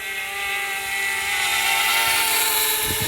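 A DJI Mavic Mini drone flying nearby, a loud continuous high-pitched whining buzz of small propellers that holds steady throughout.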